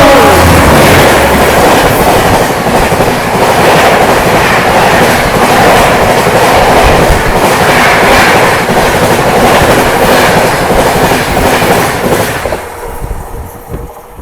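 A 12002 New Delhi Rani Kamlapati Shatabdi Express passes at high speed in an overtaking run, a loud continuous roar of rushing carriages with rhythmic clickety-clack of wheels that drops off sharply near the end.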